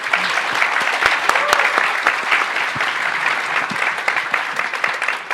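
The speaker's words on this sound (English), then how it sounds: "Could we have a round of applause for this panel?" Sustained applause from an audience at an executive AI panel event, a dense steady wash of clapping with a few sharper individual claps standing out, holding at an even level throughout.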